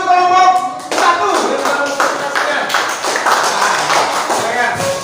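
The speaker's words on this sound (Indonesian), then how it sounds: "Tepuk tangan untuk kelompok 1." A classroom of students claps for a group that has just presented, a short burst of close, uneven hand claps following a brief moment of a voice speaking.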